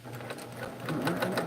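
A sewing machine stitches rapidly while quilting around tiny fabric pieces, its needle keeping a fast, even mechanical rhythm close by that quickens slightly toward the end.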